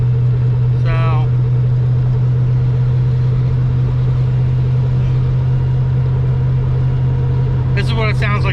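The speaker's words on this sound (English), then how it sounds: "this is what it sounds like to drive this car. It's noisy, it's obnoxious, it's not fun." Loud, steady low engine drone inside a 1000 rwhp drag car while driving, a constant heavy hum throughout with brief voice snippets at the start and end.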